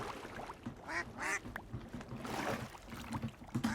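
Ducks added by a mod in Minecraft give several short nasal quacks in quick bursts, fairly close and moderately loud over a steady game background, with no talking.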